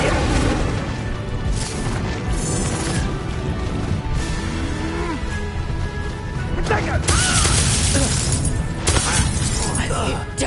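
Confringo blasting spells in the Hogwarts Legacy video game set off repeated loud crashing explosions with shattering bursts, dense and continuous amid game music and voices shouting over the combat.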